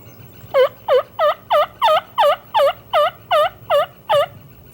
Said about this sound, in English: Turkeys appeared as well, and I coaxed them with a few calls from behind the camera.